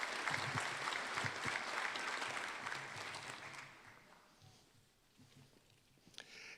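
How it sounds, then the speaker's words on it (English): Crowd at a medical sciences commencement applauds graduates, a broad sustained clapping that fades out after about four seconds into quiet room noise with a few scattered sounds. "Let's give them a big round of applause."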